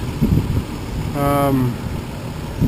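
A Nissan Xterra six-cylinder SUV engine idles with a low, even rumble, and a brief tonal hum rises over it midway.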